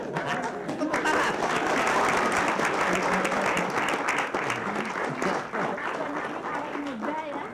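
An audience at a comedy show applauds in a loud, continuous round of clapping for several seconds, with crowd chatter and a voice running underneath.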